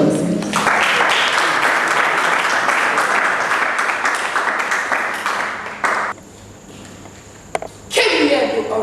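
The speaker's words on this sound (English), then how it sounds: "Applause, please." An audience applauds at a poetry show at the Maison Française in Legon, a full burst of clapping for about five seconds that then dies away into quieter room sound.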